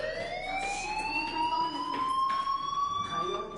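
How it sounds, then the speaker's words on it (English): A fire alarm rings steadily in the video game Life is Strange, a loud, continuous rising electronic tone with faint background sounds beneath it. "do you hear that fire alarm?"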